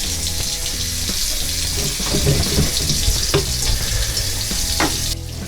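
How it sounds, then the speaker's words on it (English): A bathroom sink faucet runs on the hot side, its water a steady, close hiss and splash that lasts throughout, with a faint hum under it and no talking. "we're going to check the hot side now on the bathroom sink to kind of time it to see how long it takes for the water to get hot"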